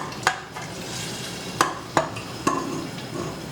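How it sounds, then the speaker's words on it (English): Diced tomatoes and their juice hit a hot pan with a low sizzle while a spoon scrapes and knocks against it in a few sharp taps, close by and without talk. "Now going in with my diced tomatoes and all of the juice."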